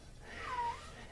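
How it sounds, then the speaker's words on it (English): A house cat meows once from behind a door, a single short, drawn-out cry that sounds faint and distant over a quiet room hum. "that's the cat at the door, if you can hear him"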